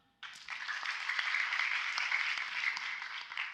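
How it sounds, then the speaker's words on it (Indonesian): Audience applause at a Christian teaching seminar, a dense wash of many hands clapping that begins abruptly and stays steady and fairly loud throughout, with no talking over it. "Beri tepuk tangan."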